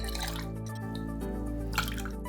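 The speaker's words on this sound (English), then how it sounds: "I think you pretty much fill it up with orange juice" Orange juice poured into a glass for a Tequila Sunrise, a steady close liquid stream with light dripping and splashing.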